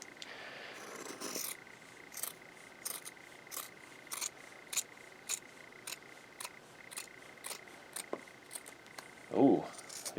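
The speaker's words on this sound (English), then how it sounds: "cut the excess here" Repeated snips of scissors trimming excess fabric from an in-the-hoop embroidered book cover, a steady series of crisp cuts close by, with a louder thump near the end.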